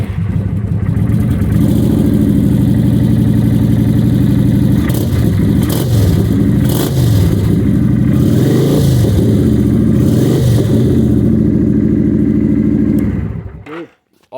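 A Kawasaki Vulcan 900 motorcycle engine runs loud and close on test, a steady rumble rising and falling through several revs over about thirteen seconds before cutting off abruptly at the end.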